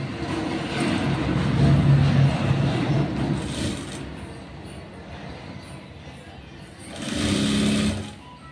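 A sewing machine stitches a blouse in loud, rapid mechanical bursts, running for a few seconds, pausing, then whirring again, with a few light handling sounds in between.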